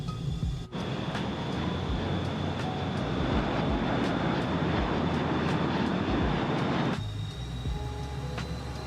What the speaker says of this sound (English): Landing gear is down.